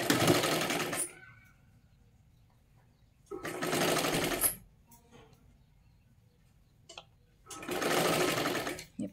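A sewing machine slowly stitches a doubled strip onto the neckline of a katori blouse. It runs in three steady bursts, with quiet gaps and faint clicks of fabric handling between them.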